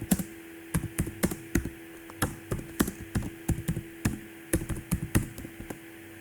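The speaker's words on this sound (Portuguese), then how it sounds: "Aqui na coluna 1 vou escrever notas do primeiro período" Rapid bursts of typing on a computer keyboard, with irregular clusters of sharp, close key clicks and brief pauses, heard alone while entering first-term grades into a spreadsheet.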